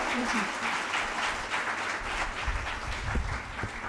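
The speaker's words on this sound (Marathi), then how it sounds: "सर एकदा जोरदार टाळ्या वाजवा." Audience at a Marathi poetry collection (book) launch ceremony applauding, a steady wash of clapping throughout with a voice faintly speaking over it.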